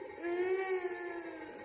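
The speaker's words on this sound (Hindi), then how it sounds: "तभी ऊपर की कमरे से रोने की आवाज़ें आने लगी।" Eerie wailing cries drift from an upstairs room of a haunted house in Bangalore, a single drawn-out moaning voice held for over a second, faint and reverberant, as a horror sound effect.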